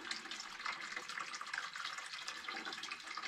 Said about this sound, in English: The water's usually coming out a bit faster than that